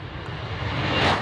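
A Typhoon jet at an air display gives off a brief, rising roar of aircraft engine noise, broad and rumbling at moderate distance.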